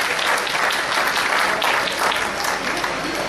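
An audience at a mushaira and kavi sammelan poetry gathering in Noida breaks into loud, sustained applause, dense clapping from a large crowd filling the whole stretch at an even level.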